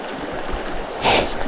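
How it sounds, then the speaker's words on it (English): A short, breathy puff of air blown onto a wet CDC dry fly after it was squeezed with a rubber band, a close burst about a third of a second long over faint stream background. "blow on it real quick just to get more out"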